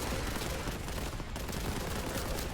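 Bolt gun fire in Warhammer 40,000: Boltgun, a dense, continuous fusillade of loud rapid shots blending with explosions, unbroken for the whole stretch.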